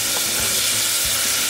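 Diced medium tomato dropping into a pan of well-fried onions for a roadside-style Tamil salna, giving a steady, close frying sizzle and hiss with a few soft low thumps of stirring, no voices.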